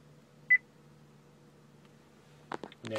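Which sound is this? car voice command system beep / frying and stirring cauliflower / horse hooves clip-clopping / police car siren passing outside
car voice command system beep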